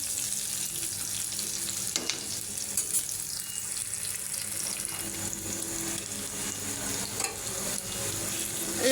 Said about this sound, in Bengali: এখন দিয়ে দিব রসুন বাটা।